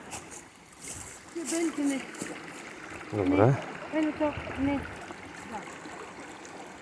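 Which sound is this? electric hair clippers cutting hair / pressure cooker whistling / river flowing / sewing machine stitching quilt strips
river flowing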